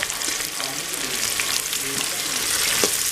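Chopped onions and green chillies sauté in hot oil for a vegetable biryani, producing a continuous close sizzle with faint stirring scrapes and no voices.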